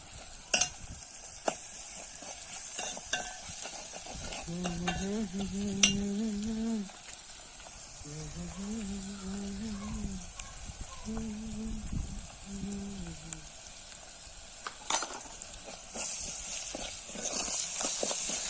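Onions frying with red chili and spices in a pan, a steady close sizzle and hiss under occasional spoon scrapes and knocks, with a brief tonal hum midway and no speech.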